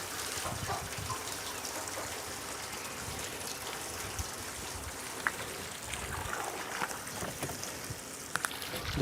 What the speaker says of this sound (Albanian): Do hedhim vend tjetër ujë.